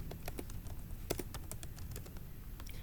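Rapid keystrokes on a computer keyboard while code is typed for a JavaScript demo, a steady patter of light clicks with a few sharper taps, close and alone.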